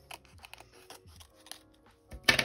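Scissors trimming paper for a junk journal page: faint, close snipping and soft paper rustles in a quiet room, ending with a louder crinkle of paper handling.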